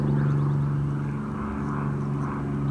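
A propeller airplane drones steadily overhead, a constant low hum holding at one loudness with no voices.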